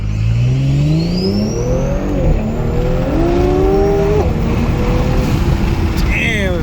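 A modified 2022 Audi S5 Sportback accelerates hard, a loud close exhaust roar climbing through the revs and shifting up, with someone speaking over it.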